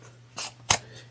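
Two crisp snips of scissors grading through the bulky quilted fabric seam allowance of a barrel bag near a zipper panel, close and isolated, the second cut louder and sharper.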